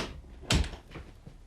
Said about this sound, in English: Oh, maybe can we just close the door?